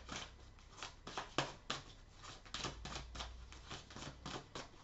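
Tarot cards drawn and shuffled from a deck during a horoscope reading, a run of crisp papery flicks and snaps in quick irregular succession, close and fairly quiet, with no talking.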